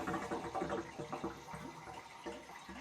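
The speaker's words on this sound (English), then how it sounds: "we'll open it again and just let it keep draining" A water heater draining sediment-laden water through a hose: a steady, moderately loud gurgling flow with uneven pulses and spurts, running continuously with nobody talking.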